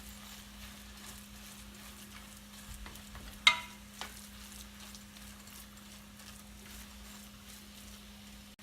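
Shrimp cutlets fry gently in a pan on low heat, a faint steady sizzle over a low hum, with a sharp clink of a utensil midway and a softer one just after.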